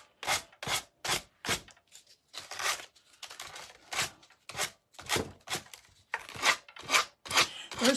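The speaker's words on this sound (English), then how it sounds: "You know this is going to be loud, y'all, because I got to sand this stuff off." Hand sanding paint off a wooden pumpkin, loud rhythmic scratchy strokes in quick bursts, close up and alone, with brief pauses between passes.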